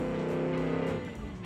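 A GT race car driven hard on a track in BeamNG Drive, a loud high-revving engine roar that drops in pitch as it backs off, brief and close.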